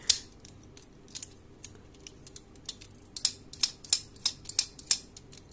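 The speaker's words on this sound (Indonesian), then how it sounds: "oh ini bisa dibuka kayak gini" Plastic Hot Wheels Sky Dome toy being opened, a series of sharp, close clicks and snaps that quicken and grow louder toward the end, with no talk.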